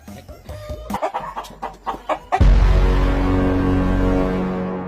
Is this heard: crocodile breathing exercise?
no